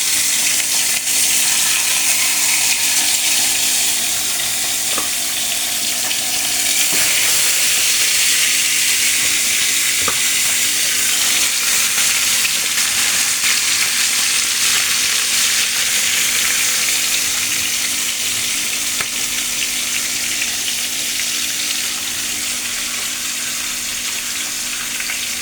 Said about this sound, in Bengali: মাছগুলো একই নিয়মে উল্টে পাল্টে ভেজে নেব